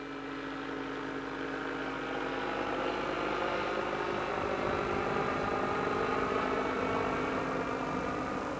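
Light aircraft engine droning steadily during an air rally over the Lake District, a continuous mid-level hum that swells slightly partway through, with no voices.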